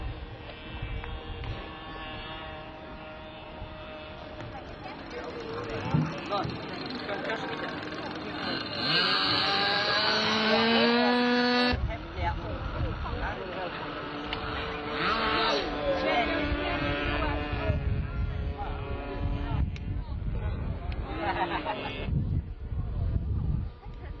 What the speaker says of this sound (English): That's a Trainair 40 using powered by an OS-46 two-stroke.